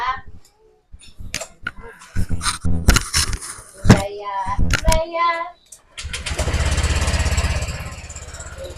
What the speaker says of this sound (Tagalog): Tunog ng tambutso natin.